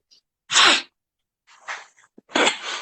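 A person sneezes once loudly and close, followed by a couple of softer sniffing, breathy sounds and a second forceful sneeze, with quiet gaps between.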